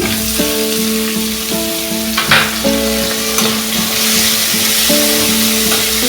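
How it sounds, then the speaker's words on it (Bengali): Chopped tomatoes fry with chopped onion in a pan over a medium gas flame, giving a steady close sizzle throughout with a sustained melodic tone running alongside. "টমেটোটা নরম হবে, তাড়াতাড়ি ভাজা হবে"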